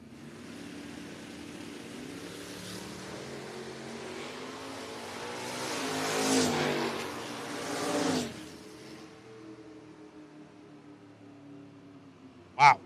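A Dodge drag car and a 2007 Mustang race down the strip at a drag racing event, their engines rising to a loud roar and then fading, ending with a sharp bang.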